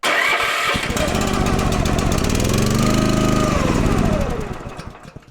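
A small engine runs loud and close, its pitch sweeping up then settling and dropping as it idles down after a throttle adjustment, fading toward the end.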